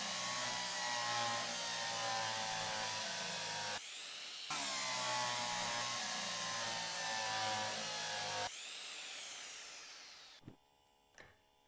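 Power drill whirring as a part is fastened onto a locomotive in the train game Derail Valley, two long sustained buzzing runs with a brief pause between, winding down at the end, followed by two faint clicks.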